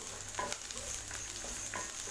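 Onions and curry leaves sauté in a pan for chow chow sambar, a low steady sizzle with a few soft stirring scrapes, close and faint, with no voices.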